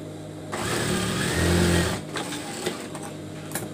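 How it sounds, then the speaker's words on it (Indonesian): Sewing machine stitching fabric for a hijab face mask, a steady mechanical whir that runs for about a second and a half then gives way to softer handling clicks and rustles close by. "kita jahit lagi di sebelah sini"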